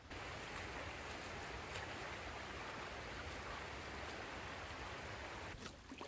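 Rainwater draining off a dirt road and spilling into a gully, a steady faint rushing wash with no break across the whole stretch.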